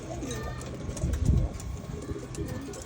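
Pigeons coo close by in low, soft, throaty murmurs, one fuller burst standing out mid-clip among quieter overlapping calls and faint background noise.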